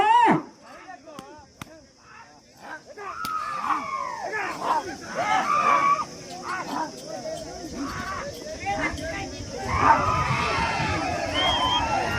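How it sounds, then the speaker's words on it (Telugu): A crowd shouts and cheers continuously in the background, rising and falling, with a dog barking a few times near the start. "బాగా కేకలు వచ్చినాయి"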